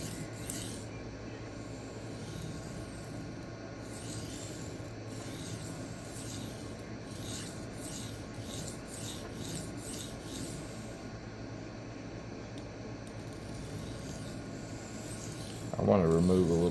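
Freehand sharpening of an Ozark Trail D2 steel knife on Xarilk 1x6 inch stones, a steady repeated rasping sweep of blade over stone running throughout at moderate level, with a louder handling clatter near the end.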